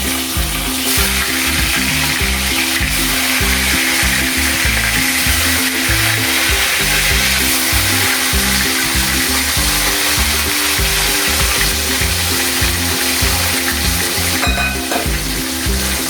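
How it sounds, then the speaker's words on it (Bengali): Nigella seeds (kalonji) crackling and sizzling in hot oil in a pan, a loud continuous frying hiss with pops and stirring scrapes, no talking. "তেল দিয়ে দিয়েছি, আর আমি আগে কালো জিরা দিয়ে নিই"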